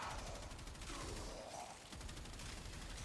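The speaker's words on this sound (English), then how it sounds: "It shoots really fast, a bunch of projectiles." Reconifex weapon in Warframe firing rapidly, a dense, fast stream of projectile shots forming a continuous faint rattling burst with no talk.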